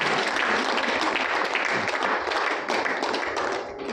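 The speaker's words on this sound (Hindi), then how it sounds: "एक बार तालियों की गड़गड़ाहट से" Applause from an audience in a hall, a dense, continuous roar of many hands clapping together, steady and fairly loud throughout.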